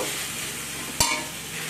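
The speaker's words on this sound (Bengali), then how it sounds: "সেদ্ধ করা আলু দিয়ে একসাথে সবটা ভালো করে মিশিয়ে নেব" Boiled potatoes being stirred into a vegetarian banana-flower mixture in a hot pan: a steady, close sizzle with one sharp scrape of the spoon partway through.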